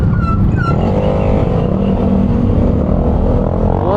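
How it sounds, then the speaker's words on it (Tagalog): A Yamaha Aerox scooter engine idles and revs loudly up close, a dense rumbling drone with a rising whine near the end, and no talk. "Voice of Aerox."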